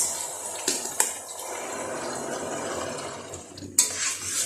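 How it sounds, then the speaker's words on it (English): Spoon stirring a roughly chopped pepper mix into a simmering vegetable soup sauce with spinach, a steady soft wet scraping and bubbling with a couple of sharper clinks against the pot, close and alone. "Give it a good stir, then allow it to cook for about 2 to 3 minutes."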